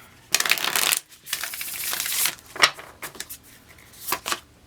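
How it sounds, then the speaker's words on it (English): Tarot cards are shuffled by hand in several quick riffling bursts with short pauses between them, close and crisp, with no talking. "One more shuffle."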